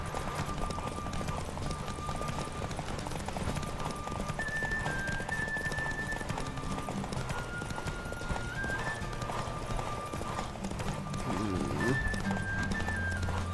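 A horse galloping in the video game The Witcher 3, rapid rhythmic hoofbeats running steadily throughout, mixed with game music tones and ambient noise.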